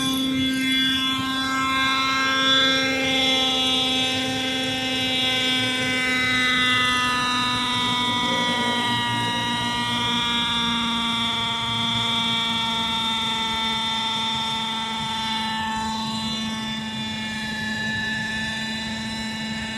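The rotor of a Hirobo Lama RC helicopter spins up close with a steady, loud whine and a strong hum, its pitch wavering slightly as the rotor speed shifts, with no talking.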